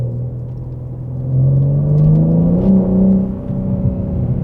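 A 2022 BMW M4 Competition's engine and exhaust give a deep, close rumble that swells as the revs rise, holds for a moment, then eases back down, with no talk over it.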